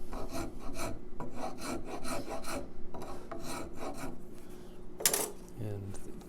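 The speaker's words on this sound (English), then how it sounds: "So I've used the rasp to get to where I am now." A rasp works the wooden heel of a traditional guitar: close, rhythmic scraping strokes in quick bursts, with a brief clink near the end.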